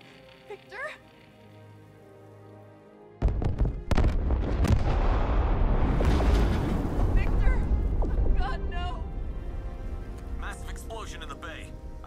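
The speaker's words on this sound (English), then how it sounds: "Explosion in the bay." An explosion in the bay in Batman: Arkham Knight bursts in as a sudden loud blast, followed by a long rumbling roar of debris that slowly fades, with voices speaking before and after.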